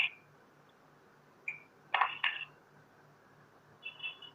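A mobile phone gives off several short, faint electronic notification tones in a quiet room, spaced apart, with a soft hum underneath.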